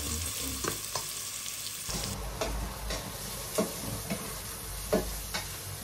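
Food sautéing in a hot pan, a steady close sizzle with periodic sharp utensil clacks and stirring scrapes against the pan, no voices.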